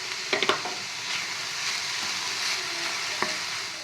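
Carrot and sweet corn are stirred in a frying pan while onion samosa filling is being cooked: a steady low sizzle with a few sharp clatters at the start and one more later, with no talk.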